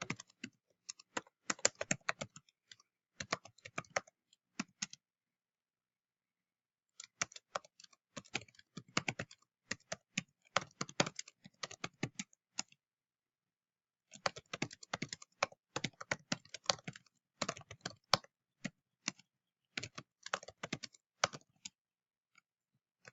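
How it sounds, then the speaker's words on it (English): Fingers type on a computer keyboard while someone writes a block comment in code. Quick bursts of key clicks come close and clear, separated by short silent pauses, with no talking. "And then you can type whatever you want."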